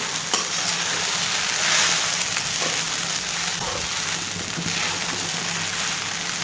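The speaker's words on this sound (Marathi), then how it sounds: "आपला शाबुदाना मस्त परतलेला आहे अजून जरा पाच मिनिट आपण चांगला असा झाकण ठेवून परतून घेऊ" Sabudana (sago pearls) frying in a pan for khichdi, a steady close crackling sizzle with light stirring scrapes, even and continuous without speech.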